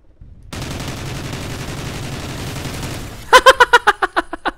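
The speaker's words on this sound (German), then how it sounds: "Minigun Action." Minigun spinning up and firing in the multiplayer shooter Call of Duty: Ghosts on a Ukraine map: a sustained whirring buzz for about three seconds, then a burst of about eight loud rapid shots fading out.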